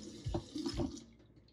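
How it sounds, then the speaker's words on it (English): Running water over rice being rinsed in a bowl, heard as a faint, short wash of splashing with two soft swishes, with no talking. "You're supposed to rinse the rice."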